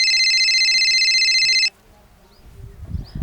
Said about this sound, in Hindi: ये फ़ोन आ रहा है गौरव का